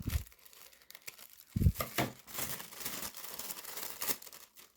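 Paper sewing pattern pieces being cut out by hand, with crisp crinkling and snipping sounds of paper handled and sliced, moderately close, with no talking.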